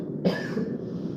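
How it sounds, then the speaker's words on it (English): A single short, close cough from a person indoors, abrupt and moderately loud, fading into a quiet room tone. "I'm gonna cough."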